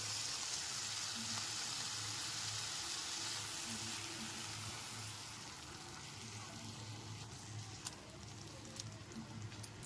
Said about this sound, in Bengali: গ্যাসের ফ্লেমটা লো টু মিডিয়ামে রেখে খুব ভালো মতো মশলাটাকে কষিয়ে নিতে হবে